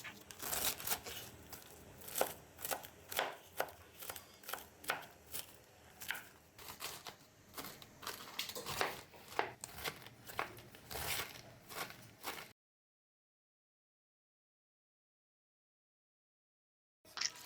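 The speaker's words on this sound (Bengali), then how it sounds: "এবার কপিকে এভাবে মিহি কুচি করে কেটে নিচ্ছি।" A knife finely shreds half a cabbage on a cutting board for a mashed cabbage dish, giving a rapid series of crisp, close chopping taps for about twelve seconds before the sound stops. No one speaks.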